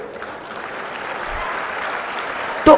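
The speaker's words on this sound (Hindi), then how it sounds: "एक दूसरों के लिए ताली तो बजा दो" Applause from students at a university event in Jaipur, continuous crowd clapping at a moderate level that holds steady throughout, ending with a brief louder thump near the close.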